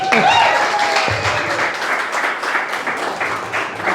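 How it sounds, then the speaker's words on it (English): Applause from an audience at a live sales event, a dense crowd of clapping that starts loud with cheering voices and a whistle near the start, then carries on steadily for several seconds. "Guys, round of applause for Daniel, everybody."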